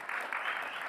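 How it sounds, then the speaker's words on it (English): Audience clapping in a brief, faint burst of steady applause at a Folkestone Triennial arts event. "big round of applause for"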